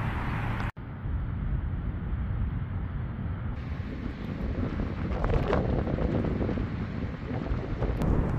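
Strong gusting wind on a hillside cemetery buffets the microphone, a heavy low rumble with roaring surges that barely lets up, and no voices.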